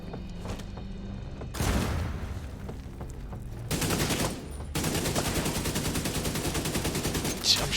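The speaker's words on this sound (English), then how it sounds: "I'm shooting at it. I'm shooting at the roof because it won't register." Gunfire in The Division 2 on Stadia, with bursts of shots, booming impacts and background game noise throughout, loud and close.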